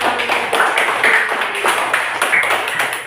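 A class of children clapping in a classroom Islamic religious education lesson, a loud, brisk burst of hand claps with an uneven rhythm, close by, with little talk.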